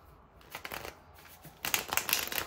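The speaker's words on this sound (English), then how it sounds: "One more shuffle. Okay, let's cut the deck" A deck of tarot cards is shuffled by hand in a quiet room, with soft papery riffles that grow into a louder, denser flurry of card flicks toward the end.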